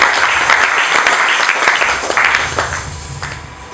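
A church congregation bursts into loud, dense applause and clapping that fills the room, mixed with crowd voices and slowly easing off.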